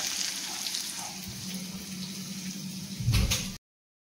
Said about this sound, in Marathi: तर मी ह्याच्यात टाकते कांदे आणि पटकन कांदा पोहे बनवते